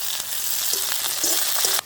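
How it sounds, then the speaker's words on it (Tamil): Eggplant pieces sizzle steadily in hot oil, a dense, close frying hiss with a few soft clinks and bubbling pops, and no talking. "நான் இப்போ கத்தரிக்காயை பொரிச்செடுக்க போகிறேன்."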